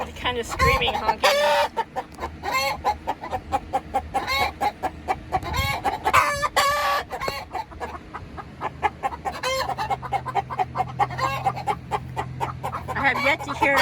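Young Brahma chickens give loud, harsh goose-like honking and screeching calls, with other backyard hens clucking around them in a steady, busy flock chorus close by.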